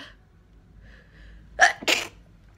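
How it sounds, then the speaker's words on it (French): A quick, sharp sneeze in two bursts after a faint intake of breath, close and fairly loud against a quiet background. "Je vais éternuer."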